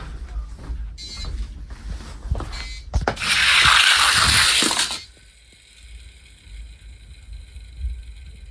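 A Hot Wheels drag race track racer switched on for a Ferrari F40 race gives a string of small mechanical clicks and taps, then a loud whirring burst for about two seconds that settles into a faint steady hum.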